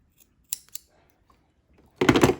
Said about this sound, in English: You're going to go diagonal cut into the corner